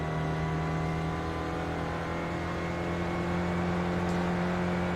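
Race car engine held at full throttle on a flat-out section of Mount Panorama in a racing video game, a steady loud drone with a constant pitch throughout and no letup, no voices.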